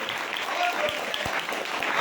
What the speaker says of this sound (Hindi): यीशु मसीह के लिए एक बार ताली बजाएं सारे।